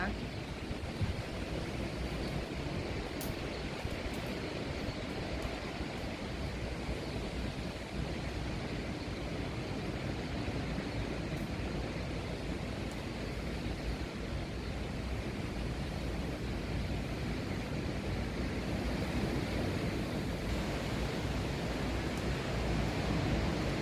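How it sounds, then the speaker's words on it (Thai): Steady, loud wind roars across the microphone with a broad rushing hiss, constant and unbroken throughout, on a rainy, cold day of about 8°C by waves in Canada. "ฟังลมนะคะพี่น้องค่ะ"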